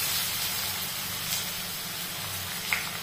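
Onion with cinnamon, cloves, black cardamom and dried red chillies frying gently on low flame in a pan, a soft, steady hiss and sizzle, close and even, with a faint clink near the end and no speech.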